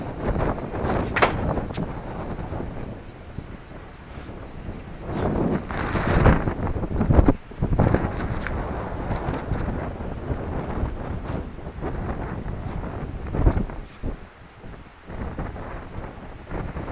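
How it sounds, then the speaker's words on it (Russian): Strong wind at a beach resort buffets the microphone in rough, uneven gusts, a loud roaring rumble that swells and drops throughout. "Вот такой ветерок. Дует."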